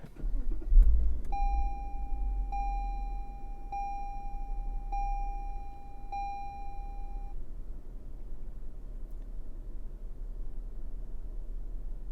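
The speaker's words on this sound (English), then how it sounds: "I will switch off the car now and then switch it back on." A car is switched off and back on, and a clear electronic chime sounds at a steady pulse about five times, then stops. A low idle rumble continues underneath.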